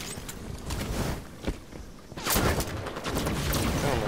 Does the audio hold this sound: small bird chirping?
no